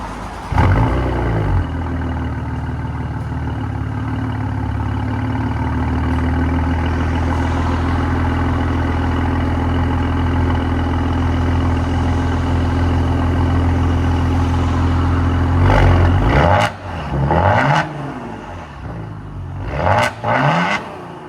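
A 2014 Maserati Quattroporte Q4 with a 3.0L twin-turbo V6 and straight-pipe exhaust drones at a loud, steady idle for about fifteen seconds, then barks through several sharp rev blips that rise and fall back.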